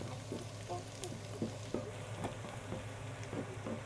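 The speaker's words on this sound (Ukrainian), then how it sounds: "Цибульку і моркву підсмажуємо до такої золотистої золотистої скорінки" Onion and carrot frying in a pan until golden, a quiet steady sizzle with soft scattered crackles and a low hum beneath, faint and close.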